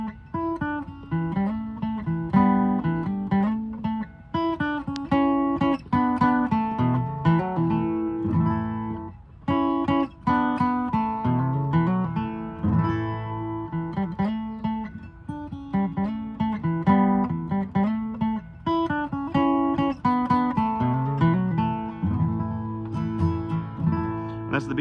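Bluegrass acoustic guitar picks out the fiddle tune Old Joe Clark with double stops, a bright, steady flatpicked melody played solo and continuously throughout, no voices.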